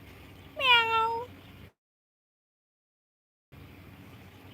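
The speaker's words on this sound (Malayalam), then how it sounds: "പൂച്ച എങ്ങനെയാണ് കരയുക എന്നതാണ്" A single drawn-out cat meow, close and clear, rising then falling, followed by a stretch of silence and faint background noise.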